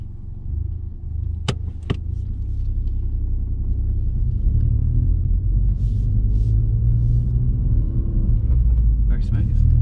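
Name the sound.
car driving on road during driving lesson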